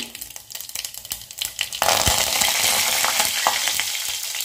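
Mustard seeds, cumin and curry leaves hit hot oil and burst into a loud, dense sizzle that jumps up abruptly midway. Before that come lighter crackles and pops, and the frying roar holds steady to the end.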